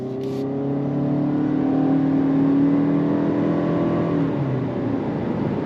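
A 2025 Toyota Camry XLE hybrid accelerating under throttle, heard from inside as a rising, smooth engine and motor whir that swells, holds and eases slightly toward the end, with no talking.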